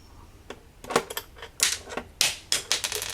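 Tightening the bottom screws of a cheap dual monitor stand produces a series of short, sharp clicking and ratcheting bursts, close and fairly loud. The bursts come in irregular clusters, and no one speaks.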